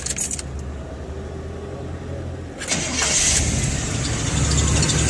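A Chevy truck after a TBI-to-carburetor swap cranks briefly and fires up, settling into a steady, fairly loud idle with a small metallic jingle early on; no voices.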